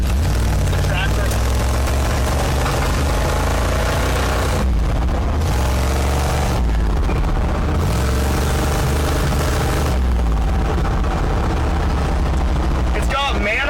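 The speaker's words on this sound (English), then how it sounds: "there's so many exhaust leaks that it just backfires and shoots flames" A rough 1973 Jeep J4000 engine with straight pipes into long cherry bomb mufflers and leaky exhaust runs loud and close, with a heavy low rumble, uneven pops and a few brief gaps, while people talk over it.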